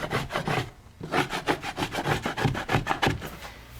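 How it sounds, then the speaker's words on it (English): Old wallpaper is scraped off a wall with repeated back-and-forth strokes, a loud, close, rhythmic rasping that keeps a steady pace. "You might have to do a lot more scraping here, so you just need some patience."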